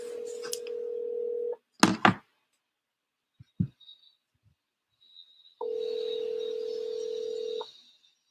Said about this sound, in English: let me give her a call, and get her on the phone